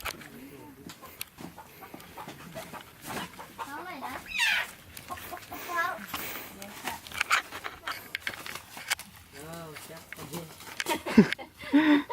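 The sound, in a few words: chicken clucking while being caught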